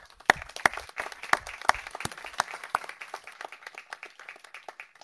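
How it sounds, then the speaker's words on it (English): A small audience claps for the Office of Sustainability staff, a few loud, distinct claps at first spreading into lighter, scattered applause that thins toward the end. "Can we give them a round of applause?"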